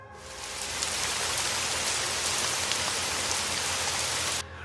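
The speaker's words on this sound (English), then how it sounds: "The sound of the rain was loud and it made the house feel even quieter." Heavy rain pours down steadily in a dense, loud hiss that fills the space, then drops off abruptly near the end.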